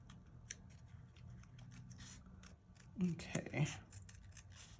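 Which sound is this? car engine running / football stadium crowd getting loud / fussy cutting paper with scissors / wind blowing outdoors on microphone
fussy cutting paper with scissors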